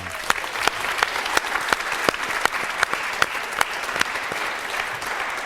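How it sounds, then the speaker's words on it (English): A live studio audience applauds at a filmed discussion program, steady, loud clapping from a modest crowd with individual sharp claps standing out through the whole stretch. "Give yourselves a big round of applause."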